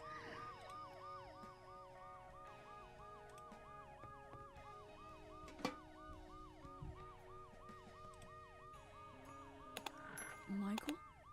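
An ambulance siren in the video game Dead Synchronicity, wailing in a steady repeating up-and-down cycle at moderate distance, with a few sharp clanks and thuds breaking through near the end.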